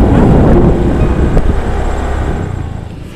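Strong wind buffets the microphone outdoors on a hot day, a loud, continuous low rumbling roar that eases slightly toward the end, with no voices present.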